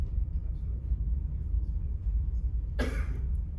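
A single short, harsh cough bursts out near the end of a panel discussion, over steady low background rumble.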